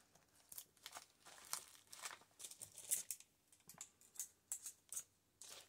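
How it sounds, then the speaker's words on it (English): Scissors snip through crunchy dry autumn leaves for a paper collage, giving a quiet series of crisp crinkling cuts and rustles in an irregular rhythm, close and fairly soft with no talking. "let's cut this off."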